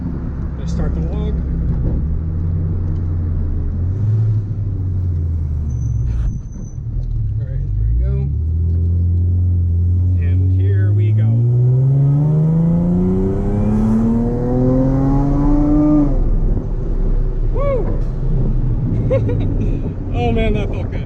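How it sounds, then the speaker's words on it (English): A Chrysler Crossfire SRT6 engine revs up hard through second gear, its pitch climbing steadily and loudly before easing off near the end. "I'll do one more second gear pull."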